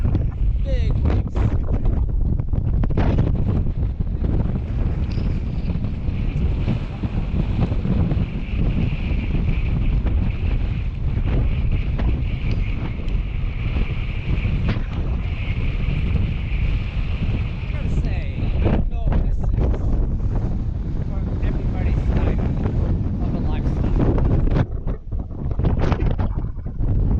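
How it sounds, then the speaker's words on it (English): Strong wind roars steadily around an anchored sailboat riding big waves, a loud continuous rushing with microphone buffeting and water sloshing against the hull for nearly the whole stretch, easing briefly near the end. "the wind is just blowing away"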